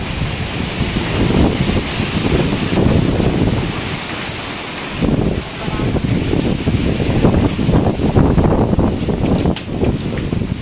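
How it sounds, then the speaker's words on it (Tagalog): Strong typhoon wind buffets the microphone in Urdaneta, Pangasinan, a loud continuous roaring rush with gusting surges and a brief lull midway. "grabe yung lakas ng bagyo. Lakas ng hangin."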